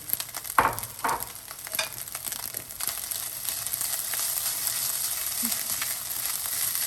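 Cooked rice frying in a pan with scrambled egg stirred in, giving a steady close sizzle throughout with a few scraping stir strokes near the start.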